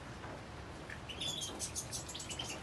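Himalayan goldfinches chirp in quick, thin bursts, faint and somewhat distant, over a steady background hiss.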